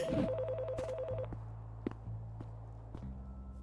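A telephone rings in the Priest Simulator video game: a bright electronic warbling trill repeats for just over a second, then gives way to scattered footsteps and a low steady hum.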